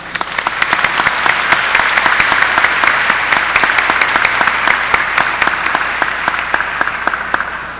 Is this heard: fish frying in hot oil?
no